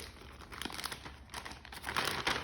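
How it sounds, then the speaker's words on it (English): A plastic Ziploc bag crinkles and rustles up close as it is handled and opened, in short irregular bursts; no one talks. "Then, what I would do is get a plastic bag. Ziploc ones are really good for this."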